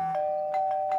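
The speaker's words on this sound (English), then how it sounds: "Wonder how it rang the doorbell." A doorbell rings with a steady electronic tone, pulsing in a few quick chimes, clear and alone.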